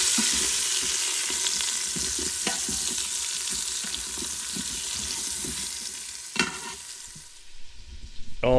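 Short ribs in an Instant Pot being stirred after paprika and cayenne go in, a steady wet scraping and sizzle that runs throughout, with a few sharper clinks near the end.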